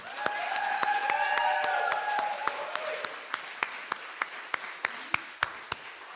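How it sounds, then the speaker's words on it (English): Applause after a poetry reading, a full round of clapping from the audience that thins out to a few scattered, distinct hand claps near the end, with a brief voice at the start. "one more big round of applause for Dior and Don."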